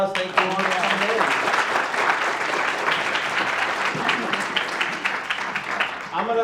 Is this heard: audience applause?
yes